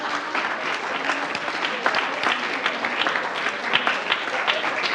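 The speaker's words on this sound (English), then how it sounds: "Now, I want all the men to applaud the women." Men in a church audience applaud the women, dense steady clapping from a sizable crowd at close range, with some voices mixed in beneath the applause.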